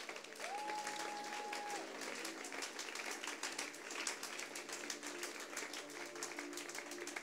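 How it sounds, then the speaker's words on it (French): A church congregation applauding during a sermon, dense sustained clapping from many hands that fills the room, fairly distant, with a faint tonal hum and a few voices mixed in. "Acclame le Seigneur."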